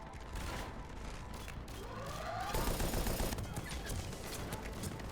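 Sustained automatic turret fire in Mass Effect 3, a steady loud rattling burst lasting the whole stretch with a brief mechanical whine partway through.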